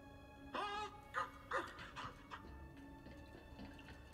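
A dog in the video game Star Wars Jedi: Survivor pants and yips in short bursts, several close vocal sounds over a low background ambience, with no talking.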